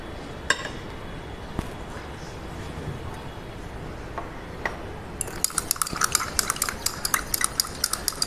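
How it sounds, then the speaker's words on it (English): A glass rod clinks and scrapes inside a glass beaker while stirring salt into water to dissolve it, sparse taps at first, then a quick run of rapid, bright clinks in the second half. "With glass rod to dissolve the mixture"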